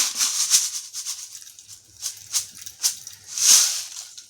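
Fenugreek seeds dropped into hot oil in a pan crackle and spit in intermittent bursts of sharp hissing pops, close by and fairly loud, with no talking.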